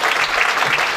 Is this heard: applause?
yes